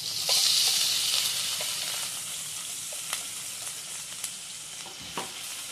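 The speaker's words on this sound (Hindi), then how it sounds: "अभी चॉप मसाला डालूंगी, अदरक लहसुन और हरी मिर्ची का।" Chopped ginger, garlic and green chilli sizzle steadily in hot oil in a pan, a loud bright frying hiss with occasional soft stirring taps and pops.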